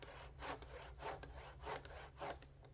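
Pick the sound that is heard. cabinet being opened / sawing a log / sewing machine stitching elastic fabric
sawing a log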